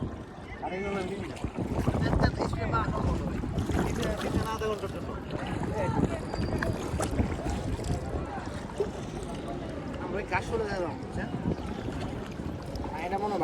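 A rowing boat moves across open water in Dhaka, wind buffeting the microphone, while people talk throughout over the steady rush.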